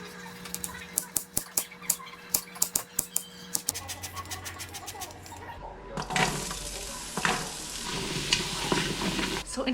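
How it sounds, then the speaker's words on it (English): Carrots sautéing in an Instant Pot, with a run of sharp clicks and taps first, then a dense, loud hiss of frying taking over for the last few seconds. "For the carrots, I'm gonna saute them on my Instant Pot."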